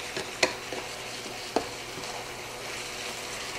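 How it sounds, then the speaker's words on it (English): Onions and peppers softening in a hot pan, sizzling steadily while a utensil stirs them, with two sharp scraping clicks against the pan standing out over the constant frying hiss; no one speaks. "I'm just going to cook this down for a few minutes until the onions are nice and soft"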